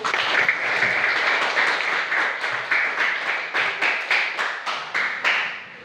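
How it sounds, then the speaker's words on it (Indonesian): Students in a classroom clap their hands, first in a loose burst of applause, then settling into a rhythmic run of about a dozen distinct, evenly spaced group claps, close and loud. "Tepuk tangan dulu."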